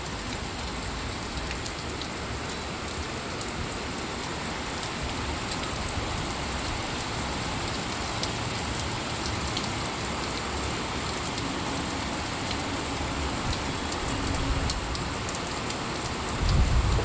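Steady rain falling on a terrace garden in Bangalore, a dense, even patter of drops hissing across leaves and surfaces, continuous and moderately loud, with no voices.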